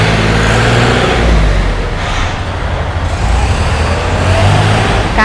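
A used Kubota L4018 farm tractor's diesel engine runs at a steady idle, a continuous low rumble with a mild rise in revs, close by and with no talk over it.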